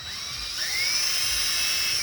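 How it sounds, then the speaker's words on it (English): A drill bores out a hole in a Daiwa 7000C fishing reel, giving a steady, high-pitched whine that rises slightly and holds for about two seconds, close and alone. "So I've gone and gotten the appropriate size drill, and we're going to drill the hole out"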